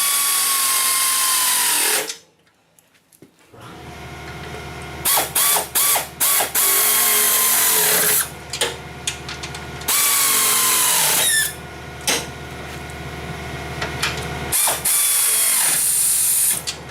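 A power tool whirs and ratchets in repeated short bursts while tightening a nut on an old plow, close and loud, with brief pauses between bursts.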